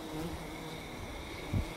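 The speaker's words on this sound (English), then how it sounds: "all these little bees, they're not honeybees, I don't know what they are, but they keep swarming around" Small non-honeybee insects swarm around beeswax-coated wood outdoors at a farmhouse in spring, giving a faint, steady, continuous buzzing hum with no talking.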